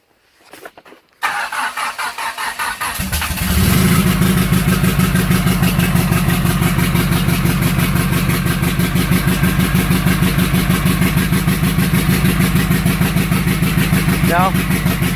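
A Pontiac Fiero engine cranks and catches after a short quiet start, then runs very loud with a rough, rapid pulsing idle that holds steady for over ten seconds, close to the car.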